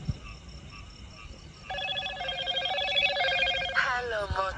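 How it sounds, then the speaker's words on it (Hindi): A mobile phone rings with an incoming call, its melodic ringtone starting after a quiet moment and repeating loudly and close, with a brief voice in the background. "आ रहा है, देखो कॉल आ रहा है।"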